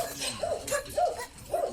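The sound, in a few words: dogs barking while out walking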